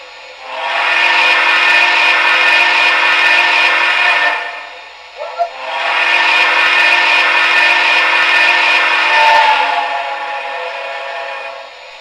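Two long, loud whistle blasts from an MTH Premier model Northern Pacific Z-5 Yellowstone steam locomotive, each held for several seconds with a brief gap and a small clunk between.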